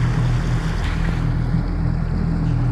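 Strong south wind blows across open water on Stockton Lake around a G3 bass boat in freezing cold, a steady low rumble of wind buffeting the microphone with faint wave wash, continuous and close, no talking.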